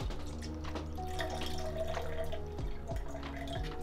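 Water pours steadily into a container while C-41 colour film developing chemicals from a one-litre Fuji Hunt kit are mixed at home, a continuous close trickle with faint drips lasting the whole stretch.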